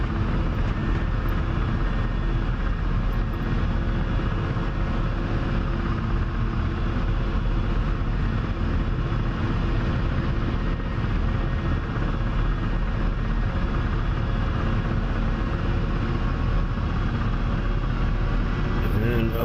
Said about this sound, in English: Our first flight in the Ka-50 Black Shark.